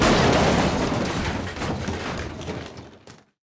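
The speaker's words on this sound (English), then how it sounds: "you can hear that we have that collapse sound" A collapse sound effect triggered in Unreal Engine: a loud, dense crumbling rumble with scattered debris crackles that gradually fades and cuts off after about three seconds.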